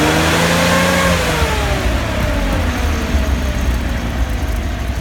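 An Alfa Romeo 2600 engine with three Weber carburettors and a direct-intake manifold revs loudly close by, its pitch rising and then falling back into a rough, steady mechanical drone with no talking.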